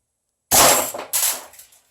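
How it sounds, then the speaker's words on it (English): An S&T gas blowback airsoft rifle fires two sharp semi-auto shots about half a second apart, each a loud close crack with a short ringing metallic tail, then silence. "I just want you to listen to the sound of the gun"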